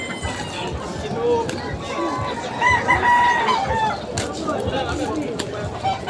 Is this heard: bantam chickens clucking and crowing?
yes